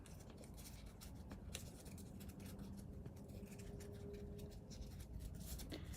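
Steady crinkling and crackling of paper being handled and opened up, close by, with soft scratchy rustles and occasional sharper crackles throughout.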